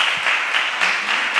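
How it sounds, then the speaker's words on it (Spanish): An audience at a science talk session claps for a speaker named Andrés, a short burst of steady, even applause heard alone and at moderate distance. "Un aplauso para Andrés, por favor."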